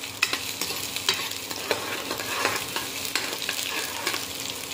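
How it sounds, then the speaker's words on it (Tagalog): Chopped onion sautéing in hot oil in a pan for ginisang munggo, a steady sizzle broken by frequent sharp scraping clicks of a utensil stirring, close and fairly even throughout. "unahin natin itong sibuyas para lumabas yung kanyang aroma o yung kanyang bango"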